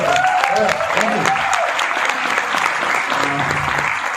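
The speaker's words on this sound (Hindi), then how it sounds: "तालियां होनी चाहिए।" An audience applauds at a Vestige motivational seminar on stage, dense sustained clapping filling the room while a voice or music with tonal lines plays over it.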